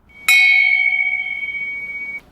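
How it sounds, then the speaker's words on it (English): A small old bell dated 1818 is struck once close by, giving a clear, bright metallic ding that rings on with a sustained, slowly fading tone for about two seconds, with no talk. "I found like a bell like this"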